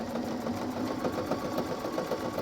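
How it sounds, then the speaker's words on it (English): A sewing machine slowly stitches around the bottom of a fabric basket for an altar pad craft, a steady, fairly quiet mechanical hum with a rapid needle rhythm. "You lift the bottom of the basket up toward the side of your machine, and you just slowly continue to stitch around the way you were stitching"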